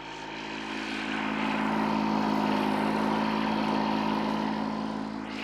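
A tractor engine throttled up while unloading a dump trailer during land clearing, a steady droning hum that swells gently and holds, loud and continuous with no talk.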